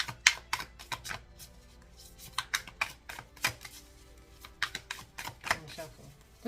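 A deck of tarot cards being shuffled up close, giving repeated quick riffling snaps and soft papery clicks in an irregular rhythm at low volume, with no talking.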